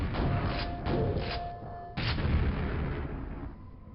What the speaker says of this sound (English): Why are these guys lobbing 2 grenades at once?